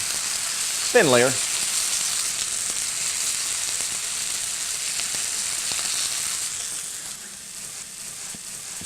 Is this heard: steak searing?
yes